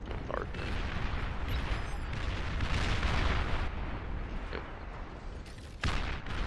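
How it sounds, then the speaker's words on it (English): Artillery bombardment pounds a shield in the real-time strategy game Beyond All Reason, a dense continuous barrage of booming impacts and rumbling blasts with a few sharper cracks, loud and steady throughout. "this one shield will fall to the bombardment"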